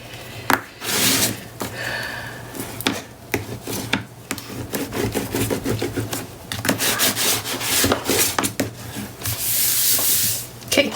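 Repeated rubbing and scraping strokes as paper is burnished down onto a Stamperia Princess mini album, a steady dry friction with irregular bursts close to the mic, no voices.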